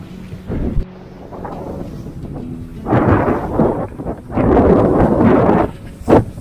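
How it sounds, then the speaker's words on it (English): A squall's wind gust roars over a sailboat, close and loud rushing bursts that swell and fade, with wind buffeting the microphone. "That's it, we're in the gust of the squall."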